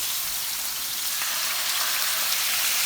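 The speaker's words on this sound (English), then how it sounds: "The steaks are sizzling" A NY strip steak sears in a hot oiled pan, giving a steady, loud, close sizzle and crackle that holds evenly throughout with no talking.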